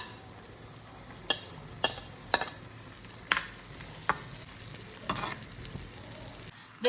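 Carrot halwa frying in a pan while raisins go in, a soft continuous sizzle broken by several sharp spoon knocks and scrapes against the pan, with no talking.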